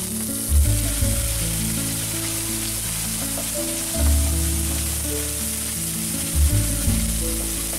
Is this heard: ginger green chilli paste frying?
yes